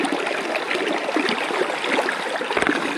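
Water flows steadily among rocks in a fish pond where it leaks out, a close, continuous trickling and splashing that holds steady for the whole stretch with no voices.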